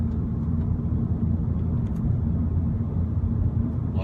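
A modified Ford Focus ST with traction control switched off gives a steady, low engine rumble that holds evenly throughout, with no one talking.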